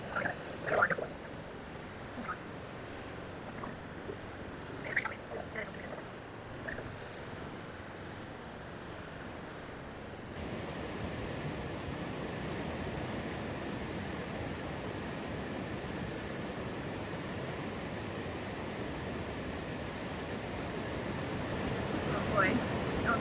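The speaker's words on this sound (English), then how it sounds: "We were smashing through the waves" Ocean surf and waves on the Oregon coast heard from a Hobie kayak with Mirage Drive pedal flippers, a steady broadband wash with gusty wind buffeting the microphone and a few faint splashes early on.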